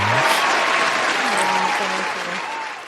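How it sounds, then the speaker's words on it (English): A round of applause during a podcast recording, a steady wash of clapping that holds for a few seconds and fades slightly at the end, with a voice faintly underneath. "Where we at with the round of applause."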